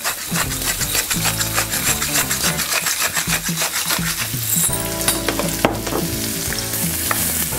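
Onions frying in a pan, cooked ahead of time before mushrooms for a beef tongue in mushroom sauce go in. Loud, close sizzling runs throughout, with repeated scraping and stirring strokes and no speech.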